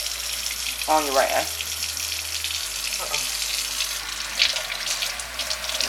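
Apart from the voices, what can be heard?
water running while rinsing off clay mask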